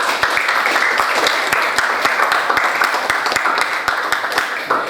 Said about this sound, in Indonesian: Tepuk tangan untuk kelompok Adi dan Jenny.